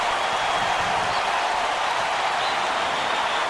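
A basketball arena crowd in the video game College Basketball 2K8 roars steadily, a dense, loud wash of cheering and applause held at an even level throughout.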